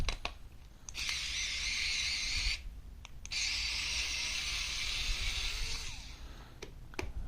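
A Strebito power screwdriver on power setting 3 drives T10 Torx screws in two steady whirring runs, with a short pause and clicks between them. Each run ends with faint clicks, and the tool sounds close but not loud.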